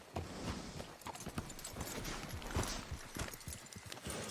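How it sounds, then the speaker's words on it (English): Rapid horse hoofbeats in the video game Red Dead Redemption 2 clatter in a steady galloping rhythm, close and continuous, with a few louder thuds along the way and no talking. "Arthur, you're riding your horse."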